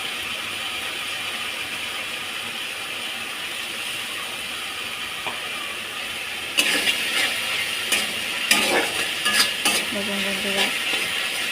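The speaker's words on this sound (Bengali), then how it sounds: "মশলাটা আমি করছি, কষে একটা তেল ছাড়ছে" Masala spices fry in oil with a steady, close hiss. Partway through, brisk stirring adds scraping and knocking against the pan, and a voice speaks briefly.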